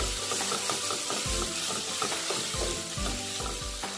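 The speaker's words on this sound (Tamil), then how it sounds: "இதுவும் நல்லா வதங்கட்டும் வெங்காயம் எல்லாமே நல்லா வதங்கிச்சு" Tomato and onion sautéing in a pan for a fish curry, a loud crackling sizzle with repeated stirring strokes and low thumps of the spoon, close up, with no speech.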